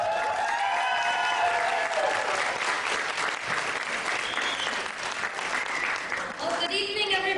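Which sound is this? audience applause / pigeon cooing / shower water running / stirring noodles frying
audience applause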